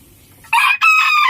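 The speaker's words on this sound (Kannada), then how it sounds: "ಇವನ್ನೆಲ್ಲ ನಾನು ಮೊದಲೇ ತೋರಿಸಿದ್ನಲ್ಲ ಬ್ಯಾಂಟಮ್ ಕೋಳಿಗಳು" A bantam rooster among short bantam hens crows loudly and close by in two quick bursts separated by a brief break.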